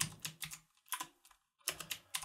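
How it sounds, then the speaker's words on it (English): Quick bursts of keystrokes on a computer keyboard while code is entered, coming in short uneven clusters with brief pauses between them, close and fairly quiet with no talking. "We are going to go ahead and type fire point"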